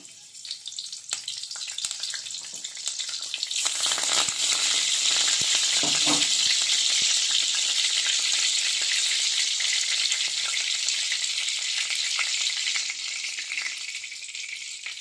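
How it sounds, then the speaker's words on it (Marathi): Loud, steady sizzling of curry leaves dropped into hot oil, rising abruptly and holding a bright crackling hiss throughout, with a few faint stirring clinks. "आता हा तेलामध्ये लगेच कढीपत्ता टाकून घ्यायचा आहे"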